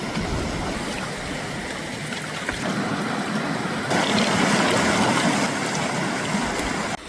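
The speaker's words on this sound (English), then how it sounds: "The river has come down enough for me to cross it today though." A river rushing at a wilderness crossing, heard as a constant broadband wash of flowing water close by that swells slightly louder toward the end, with no voices.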